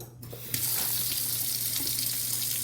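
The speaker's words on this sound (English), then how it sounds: "We're just going to take it and simply put it in water and rinse it off." Tap water runs steadily over a steak being rinsed in a sink. The loud, continuous gush starts abruptly after a brief quieter moment and holds without a break.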